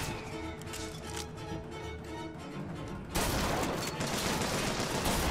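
Gunfire in Bioshock Infinite: a steady dense crackle of shots at first, then a louder, harsher barrage of blasts that fills the last couple of seconds, with no talking.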